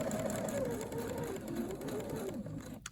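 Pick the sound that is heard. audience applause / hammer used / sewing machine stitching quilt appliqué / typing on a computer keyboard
sewing machine stitching quilt appliqué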